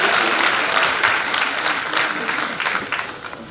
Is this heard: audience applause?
yes